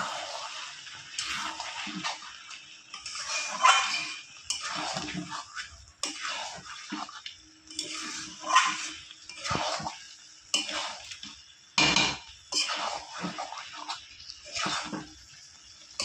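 Chicken cooks without oil in a pan with its own released water, stirred with a utensil. There are intermittent scraping and clinking strokes against the pan in irregular bursts, close and fairly quiet, with a faint wet sizzle between them.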